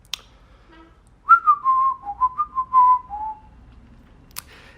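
A person whistles a short wavering melodic phrase, imitating a Brazilian politician's whistle: about eight clear tonal notes, close and alone, with a faint click before and after.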